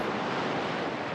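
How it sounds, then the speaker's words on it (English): Strong northwest wind buffets the microphone at a beach, a dense, loud, steady rushing roar mixed with surf, with no voices. "It's a fairly strong nor'west wind today, which makes it really hot."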